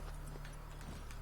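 A horse gallops in The Witcher 3: Wild Hunt, hooves clip-clopping in a quick, steady rhythm at moderate distance, a brief run of beats heard alone.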